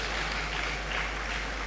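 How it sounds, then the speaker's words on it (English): Audience clapping at a university academic awards ceremony in the humanities, a dense, steady wash of applause with no break and no clear voices over it. "Please, a louder round of applause as our registrar takes her seat."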